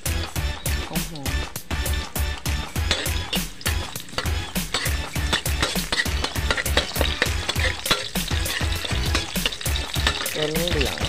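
Garlic simmering in deep, boiling-hot oil, a steady crackling sizzle heard beneath loud rhythmic background music with a regular thumping beat.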